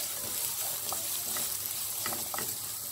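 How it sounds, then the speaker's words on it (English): Onion and garlic fry in sunflower oil for fried rice, a loud, continuous close sizzle broken by several light utensil clicks and scrapes as it is stirred, with no one talking. "Put the onion and the garlic."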